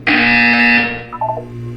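A loud electronic buzzer blares in the video game Portal 2, a harsh sustained tone lasting under a second that cuts off, followed by a softer wavering electronic tail over a low hum.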